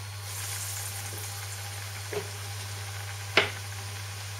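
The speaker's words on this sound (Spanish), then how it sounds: "vamos a pasar al último paso, que es freírlos. En aceite a una temperatura media los iremos poniendo." Breaded Villaroy eggs fry in oil at medium heat, giving a continuous close sizzle with a couple of sharper pops and spatters, with no talk.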